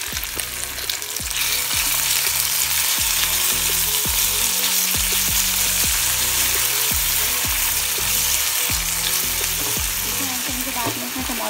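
Small chopped chicken pieces frying in a pan while making cheesy pasta, with a loud, continuous close sizzle and intermittent stirring scrapes and knocks throughout.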